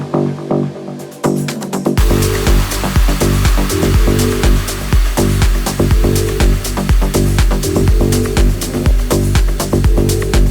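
A medium-energy progressive house track in the Mango Alley style, with a pounding four-on-the-floor kick, bass and dense synths filling the mix loudly after a brief sparse intro, with no voices.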